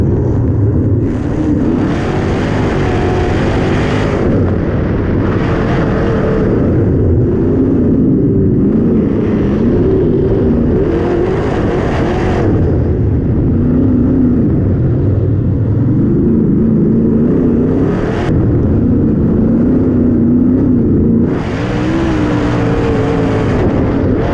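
Race cars roar around a track in a steady, loud wash of engine noise, with cars surging past one after another as a pack battles for position.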